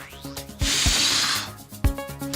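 Repellent of vinegar or water sprayed from a spray bottle: a dense burst of spray hiss lasting about a second, with a few short knocks and clicks around it.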